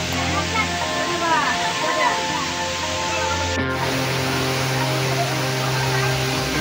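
A monsoon-swollen waterfall in Bihar, heard from behind the falling water, pours in a constant broadband rush, overlaid by a steady droning hum.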